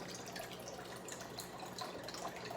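Water from a hose pours steadily into an aquaponic grow bed of growing medium and plants, a soft continuous splashing trickle, quiet and close, with no talk.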